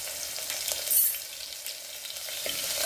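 Green chillies fry with cumin seeds in hot oil, giving a close, continuous sizzle and crackle with faint stirring.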